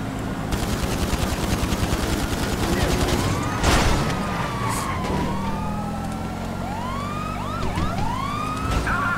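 Rapid bursts of gunfire crackle through a busy GTA V game soundscape, with wailing sirens sweeping over constant rumbling noise.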